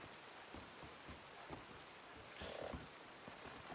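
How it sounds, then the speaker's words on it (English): Steady rain hisses down in the desert of Red Dead Redemption 2 on a Wild RP server, a constant wash of drops with a few faint frog-like croaks and a brief louder gust midway. "Oh God, it's raining again."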